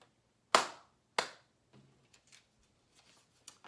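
Two sharp hand claps, close and distinct about half a second apart, followed by soft faint rustling and taps in an otherwise quiet room.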